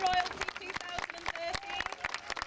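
Scattered clapping from a small crowd at Gatley Festival 2013, greeting newly crowned festival royalty, mixed with people talking, brief and moderately loud.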